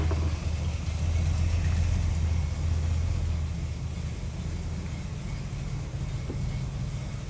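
A Ford car engine runs steadily after its automatic transmission is refilled with fluid, a low continuous rumble that drops slightly in level partway through, with no voices.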